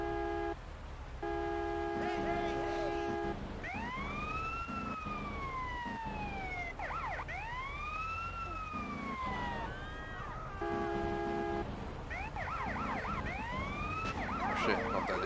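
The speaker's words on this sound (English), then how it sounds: "I'm gonna turn my siren off and let him back up." Police car siren in GTA San Andreas, wailing and yelping continuously in rising and falling sweeps, mixed with steady horn-like tones and game background noise, with a voice talking over it.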